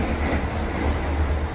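The KA Argo Lawu executive express train races through Brambanan station, giving a steady, loud rolling rumble with faint rhythmic wheel clatter, heard continuously from on board.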